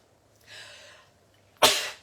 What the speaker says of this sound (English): I've got to sneeze, sorry.